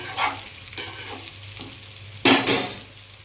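Leftover roti pieces frying in a pan are stirred gently, giving a low continuous sizzle broken by a few scraping spatula strokes, the loudest pair near the end, with no voices.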